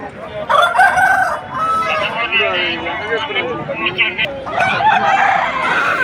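Roosters at the Nallapadu poultry market crow loudly and close, with drawn-out calls and clucks overlapping, alongside people talking.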